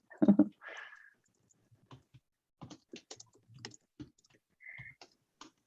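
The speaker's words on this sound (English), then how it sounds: "I don't know why my keyboard's being silly this morning." Sparse, quiet clicks and taps of a computer keyboard being typed on, irregular keystrokes spread out with pauses, close by, plus a brief soft noise at the start.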